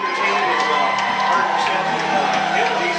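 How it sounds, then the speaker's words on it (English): A high school football game crowd in the home Wildcats' stands, cheering, whooping and shouting steadily throughout, a loud continuous roar of many voices up close. "The Wildcat crowd off to the right here, trying to give a little encouragement to our guys."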